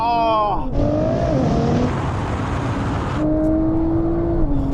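A Nissan GT-R Nismo pulls away in a drag race, its engine note rising loud and close, dropping off and swelling again as it bogs down, with a voice shouting over it.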